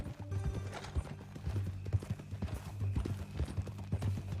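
Horse hooves clip-clopping steadily in a western ranch setting in the video game Red Dead Redemption 2, close and rhythmic, with a faint snort or whinny and no talk over it.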